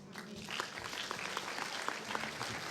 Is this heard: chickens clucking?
no